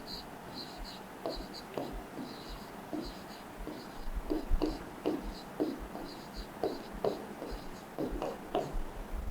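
Long division being written out on a classroom board: a steady run of short scratchy strokes and taps in irregular bursts, fairly close and moderately quiet, with faint background hiss.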